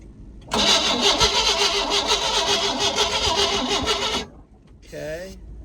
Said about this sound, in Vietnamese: Rồi nổ máy nó coi.